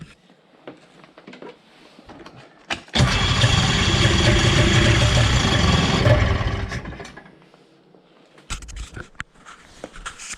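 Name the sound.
1991 Ski-Doo Formula MX snowmobile engine cranking and trying to start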